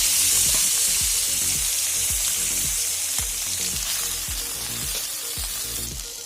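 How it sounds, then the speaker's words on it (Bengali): Pieces of fish fry in oil in a pan, giving a loud, continuous sizzle that eases off slightly toward the end, with a faint repeating background hum and no voices. "পাঁচশো মাছগুলো আমার ভাজা হয়ে গেছে"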